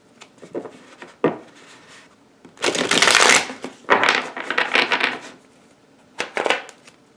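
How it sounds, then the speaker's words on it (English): Tarot cards being shuffled in several bursts, brisk papery riffles and taps with short pauses between, fairly close. "shuffling some cards"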